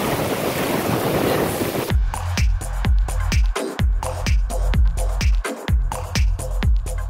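Atlantic surf breaks on shallow Daytona Beach, Florida: after a stretch of roaring wind and water, waves crash one after another in a quick, regular rhythm, loud and close.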